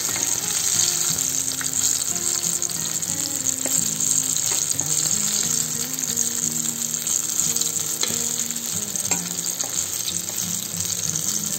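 Mango fritters fry in hot oil with a steady, close sizzle and bubbling that runs throughout, while they are scooped out of the pan.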